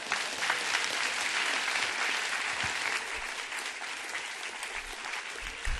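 A lecture audience gives steady, sustained applause for mathematics speaker Karen Saxe, a dense roomful of clapping held at an even level throughout.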